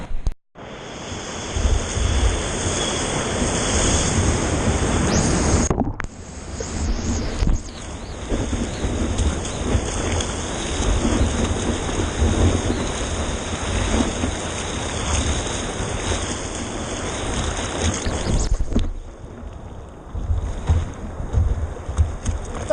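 Ocean surf washing and rumbling continuously around a surfer riding a wave, with loud broadband wash that briefly drops out and returns in bursts, likely as water splashes over or near the camera.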